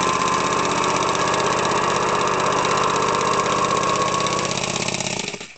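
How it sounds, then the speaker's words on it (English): A Triumph Speed Twin motorcycle engine runs close by with a loud, continuous rhythmic thrum, then cuts off and fades away at the very end. "if you kickstart it, starts up, and then when you change first gear"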